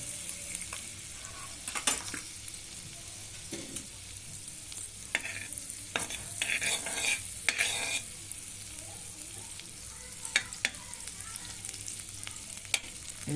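Butter melting in a hot pan while bread pieces are prepared, a soft continuous sizzle broken by sharp spatula scrapes and knocks against the pan, close up and without speech.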